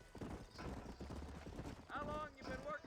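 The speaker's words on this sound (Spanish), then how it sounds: "ese caballo estaba ahí" Horse hooves clip-clop in a quick, even rhythm in the Red Dead Redemption video game, joined by a brief whinny near the end, with someone speaking over it.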